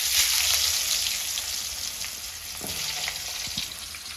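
Potatoes frying in hot oil: a dense, continuous sizzle with fine crackling, close and steady, with a few brief knocks of stirring toward the end.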